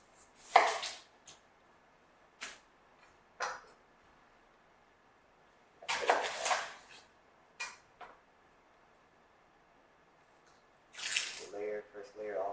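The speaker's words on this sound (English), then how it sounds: "we're going to go ahead and do some thin slices of onion" A knife thinly slicing an onion on a cutting board, with a few crisp, separate cuts spaced apart in a quiet kitchen and a short stretch of voice near the end.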